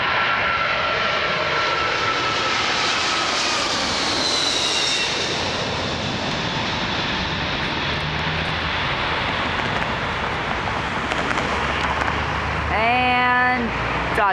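A British Airways Boeing 747-400 on landing approach to runway 23 at Toronto Pearson International, its jet engines a loud, sustained roar with a whining tone that shifts in pitch as it passes close by.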